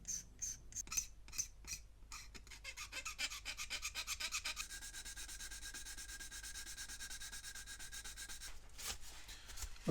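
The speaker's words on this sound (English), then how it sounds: "I'm going to remove that anyway whilst I'm just smoothing the side down here." Sanding along the side of a plastic Revell 1/144 Flower Class corvette model hull, beginning with a few separate rasping strokes and then turning into quick, steady back-and-forth scrubbing, close and quiet, with no voices.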